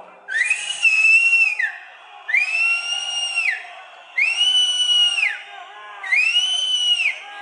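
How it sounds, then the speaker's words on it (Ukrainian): A crowd at a political rally on the Maidan in Kyiv whistling together in four long, loud, sustained bursts separated by short pauses. "давайте разом посвистимо"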